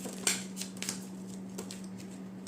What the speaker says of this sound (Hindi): One last shuffle. This is the last shuffle, guys.